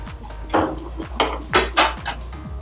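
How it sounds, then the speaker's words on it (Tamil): Tomatoes being stirred in a pan for Madurai mint chicken rice, a series of four or five scraping strokes of a spoon against metal with light clinks, close and moderately loud, no voices. "இப்போ நல்லா கிண்டி விட்டுட்டு அதை கொஞ்சம் நல்லா வதங்க விட்டுடலாம்"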